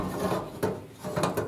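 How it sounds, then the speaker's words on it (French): A hard drive is screwed into a PC case during a computer build, giving short scraping, rasping twists of the screw against metal. The bursts are close and fairly quiet, with a couple of pauses between turns. "on prend le disque dur, on va venir le placer ici, comme ceci, et on va le visser"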